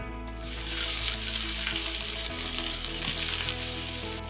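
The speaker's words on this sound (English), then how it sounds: "Then we're going to get our bacon in there as well." Bacon frying in an oiled pan while jalapeño and habanero poppers are being made, giving a loud, steady, close sizzle throughout with no one talking.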